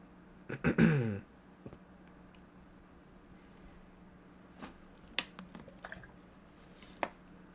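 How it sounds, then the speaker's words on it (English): Someone takes a quick drink of water: a short, close burst of gulping and sloshing at the start, then faint scattered drips and small clicks in a quiet room. "I'm gonna need a drink of water real quick,"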